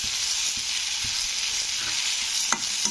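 Cashews fry in a spice paste for an egg curry, giving a steady close sizzle with soft, occasional stirring knocks and no voices.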